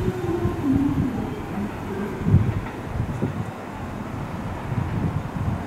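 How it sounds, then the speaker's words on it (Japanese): A train rumbles steadily through JR Kawanishi-Ikeda Station on the Takarazuka Line without stopping, low, rolling rail noise and a burst of clatter midway, steady wind-like hiss throughout. "3番乗り場、列車が通過します。"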